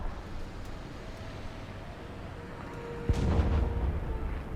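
A deep, distant rocket explosion in War Thunder, a boom and rumbling blast rising suddenly over a steady background hum, with the low roar lingering for a moment afterward.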